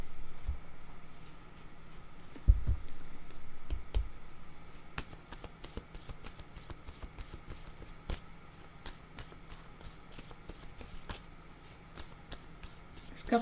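Tarot cards are shuffled in quiet, rapid riffles and soft flicks, a steady patter of papery snaps close to the listener with a few sharper taps, low in level and mostly alone.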